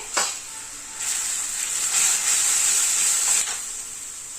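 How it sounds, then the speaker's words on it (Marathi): Moong dal with a little turmeric sautéing in a hot pan gives a loud, bright sizzling hiss that swells and holds for a couple of seconds before easing off, close up with no talking. "आता फक्त 1-2 मिनिटासाठी आपल्याला डाळ छान परतून घ्यायची आहे"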